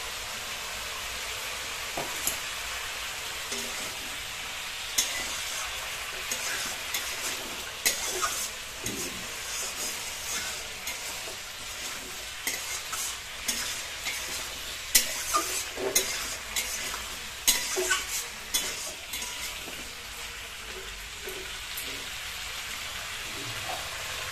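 Onions sauté in a pan with a soft, continuous sizzle while a utensil scrapes and stirs in uneven bursts, moderately close and without speech.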